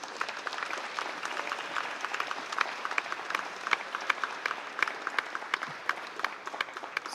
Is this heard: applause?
yes